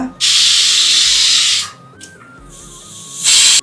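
Two eggs are poured into a pan of sizzling onion-tomato masala, giving a loud, hissing sizzle that swells, dips while something is stirred, then surges again near the end.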